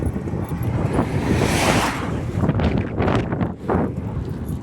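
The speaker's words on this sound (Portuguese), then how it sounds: "me desculpe aí com o barulho que eu estava ventando muito" Strong wind buffets the microphone on a bike ride, a loud continuous rumbling roar with gusty surges that swell and fade, with no clear voice over it.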